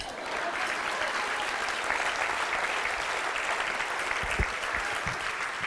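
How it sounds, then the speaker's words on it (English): An audience at the Real Change 22nd annual breakfast applauds steadily, a continuous wash of many hands clapping at moderate level from start to finish. "You can clap."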